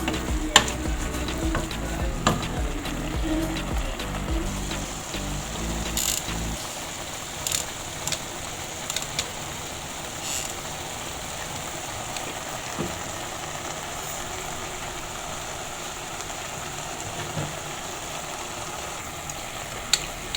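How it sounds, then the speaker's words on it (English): Vegetables for a fried tripe (matumbo) and cowpeas dish sizzle steadily in a pan, a continuous frying hiss with occasional scraping stirs and clinks, close up and with no talking. "Let the vegetables cook for 5 minutes now, and then they will be ready"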